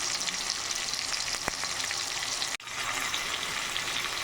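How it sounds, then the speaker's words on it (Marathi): Chopped tomatoes and curry leaves sizzle with fried onion in a pan, a steady close frying hiss. A single sharp tap lands partway through, followed by a brief drop in the sound. "टोमॅटो फ्राय होत आहे"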